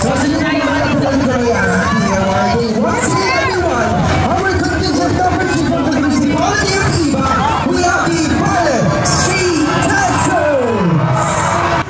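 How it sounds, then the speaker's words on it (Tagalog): Spectators at the Ibaile street parade cheer and shout in a loud, continuous roar, with many overlapping voices, children's shrieks and rising whoops forming a dense, unbroken crowd din throughout. "Nakakatuwa naman yung hiyawan ng mga taga-iba mga kabosing."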